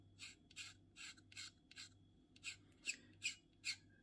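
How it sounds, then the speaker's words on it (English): A plastic canopy from a Meng 1/48 F-4E Phantom II model kit is scraped level in a steady series of about ten short, soft rasping strokes, close up and quiet, with no talk. "So a bit more of the scraping."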